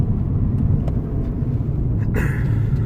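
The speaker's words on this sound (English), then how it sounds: "I'm fourth gear, partial throttle. It was shaking everywhere and misfiring everywhere." A Mini R56 with the 1.6 N12 engine runs rough at part throttle in fourth gear, giving a loud, uneven low rumble with small irregular stumbles, heard up close with no voices.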